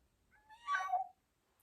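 A single cat meows once, clear and fairly close, a short rising-then-falling call with quiet surroundings before and after.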